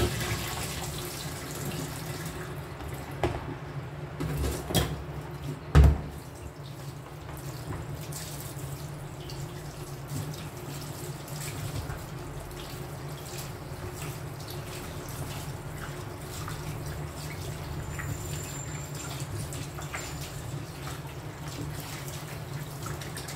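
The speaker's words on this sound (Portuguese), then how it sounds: "Só vou dar mais uma lavada aqui, tá, gente?" Tap water runs steadily into a kitchen sink as meat for feijoada is rinsed, a continuous moderate splashing rush with a few brief knocks and clatters near the start.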